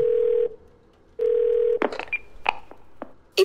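A phone dials 911 in the video game 12 Minutes: two steady dial-tone stretches, then a quick run of distinct keypad beeps, clean and close with no talk.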